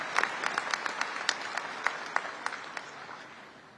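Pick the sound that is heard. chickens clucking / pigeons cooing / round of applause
round of applause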